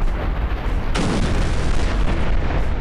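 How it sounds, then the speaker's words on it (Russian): A dropped bomb detonating in Garry's Mod: a heavy rumbling roar that suddenly flares into a loud, bright blast about a second in, then keeps roaring and crackling at full strength to the end. "Она очень классно взрывается."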